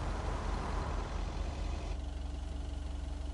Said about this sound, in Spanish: Escuché como un auto.